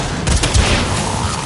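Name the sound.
cannon firing at galleon in video game Warframe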